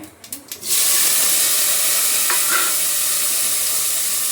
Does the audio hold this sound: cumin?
yes